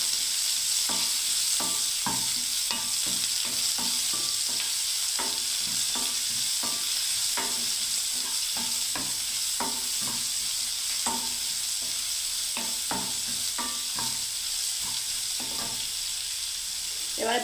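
Sliced onions sizzle and fry steadily in hot oil on a gas stove for veg biryani, with a dense continuous crackle and frequent sharp stirring clicks from a spoon against the pan, close and loud throughout.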